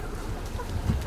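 Chickens on a village farmstead near a border give a few soft, short clucks against quiet rural background noise.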